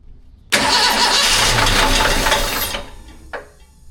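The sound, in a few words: motor engine starting on an old vehicle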